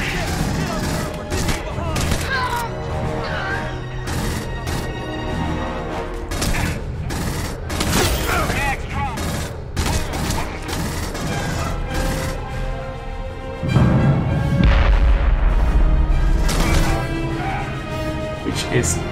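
Rapid gunfire and explosions from the Aliens: Colonial Marines video game with an overhaul mod, dense and continuous under background music, with someone talking over the action.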